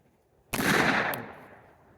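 A Rexio Super Comanche .410 revolver fires a single loud shot of half an ounce of number 6 shot at a target seven yards away, a sharp crack that decays over about a second into quiet.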